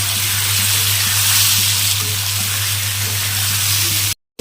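Water poured into a pan of fried sweet pumpkin, giving a loud, steady sizzling hiss throughout, with a low hum underneath and a brief dropout at the end, no talk.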